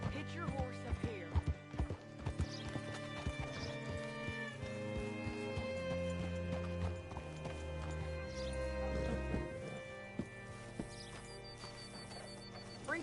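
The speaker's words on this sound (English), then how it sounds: "Hitch your horse up here." Horse hooves clip-clop in Red Dead Redemption 2, a series of distinct hoof strikes that slow and stop, with a brief whinny and game music and voices underneath.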